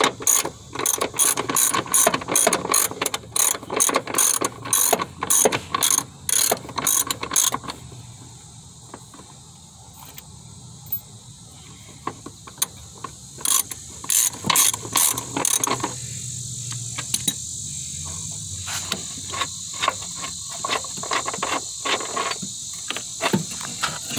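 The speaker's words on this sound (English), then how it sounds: "Upper bolt using a 3/4 socket, and it comes out real easy." A ratchet wrench with a 3/4 socket loosens the upper rear shock bolt on a 2005 Chevy Malibu, giving long runs of rapid, close metallic clicks in bursts, with a quieter pause midway before the clicking resumes.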